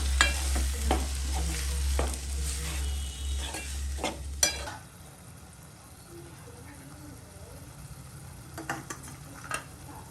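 Chopped tomatoes being stirred into a dry fish curry in a pan, with scraping and clinking from the spoon over a low rumble and a soft sizzle in the first half, then quieter intermittent stirring with faint taps.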